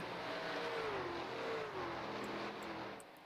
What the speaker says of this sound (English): Now we got some sound for you of the trucks.